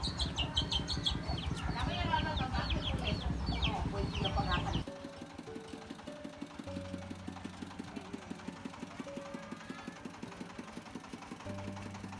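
Chickens and chicks clucking and peeping around a keranji coop, with busy overlapping calls at first, then quieter scattered peeps over a steady low engine-like hum.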